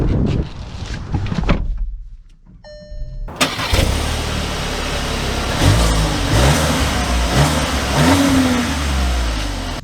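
A 2023 VW Tiguan engine cranks and fires after a brief quiet moment, then settles and revs steadily as the crossover pulls away, the mid-pitched engine drone continuing loud and close throughout.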